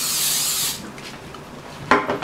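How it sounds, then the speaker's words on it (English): Cooking spray hisses in one steady burst onto a dehydrator sheet, a close, loud spray lasting under a second, followed by quiet handling and a brief knock. "I'm going to spray this dehydrator sheet first, because I have a feeling they may stick"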